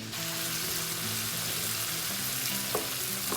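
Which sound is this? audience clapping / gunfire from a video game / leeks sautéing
leeks sautéing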